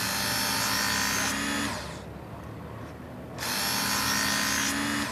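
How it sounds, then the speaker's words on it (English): A Work Sharp tool sharpener grinding a knife blade, a loud high buzzing grind that drops for a moment as the blade is pulled through, then resumes at full strength, close and without talk. "each time I'm grinding on this side of the knife"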